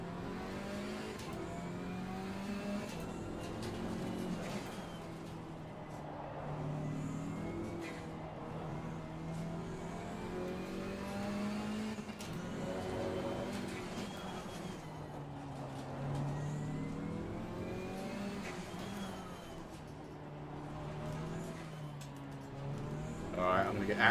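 GT3 and GT4 race cars in the sim racing game ACC at Barcelona rise and fall through the gears, engine pitch climbing and dropping repeatedly under a steady in-car drone, moderately quiet and continuous throughout.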